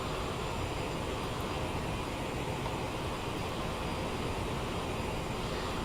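Inside a CRJ700 cockpit in Microsoft Flight Simulator 2020, a constant, windy roar of engines and airflow hums on without pause at moderate level.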